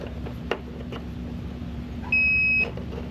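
A multimeter set to continuity gives a single steady electronic beep while testing a wire during a Mercury outboard lower unit install, heard briefly after a few faint clicks over a low background hum.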